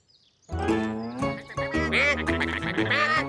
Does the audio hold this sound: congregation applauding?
no